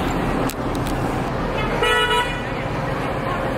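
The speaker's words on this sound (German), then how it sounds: "Und hier wird ständig gehupt." Mopeds and cars honk on a busy street in China, with a short horn toot early on and a longer horn blast near the middle over steady traffic rumble.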